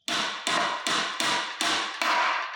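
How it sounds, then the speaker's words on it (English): Six evenly spaced, sharp hammer blows drive a part into a pre-drilled hole on a Jane 90 frame, each strike ringing briefly before the next, close and moderately loud. "You just hit and pound it in until the sound changes."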